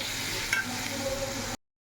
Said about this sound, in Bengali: আস্তে আস্তে করে পেঁয়াজটা যখন ভাজা হবে